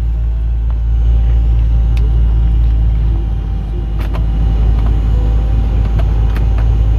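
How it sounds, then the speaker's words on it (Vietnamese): A Bentley Continental Flying Spur engine idles smoothly and steadily, a low constant rumble with a few faint clicks over it, no voices. "Máy nổ rất là êm nha"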